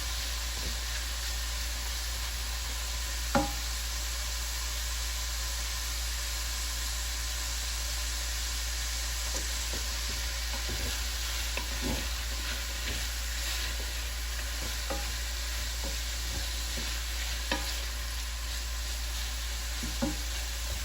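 Shrimp and broccoli stir fry cooking in a single pot, a soft constant hiss under a steady low hum, with occasional faint utensil taps.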